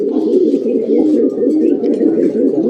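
Pigeons kept in a loft coo steadily, a dense, close, continuous low burbling that carries through the whole stretch without pause.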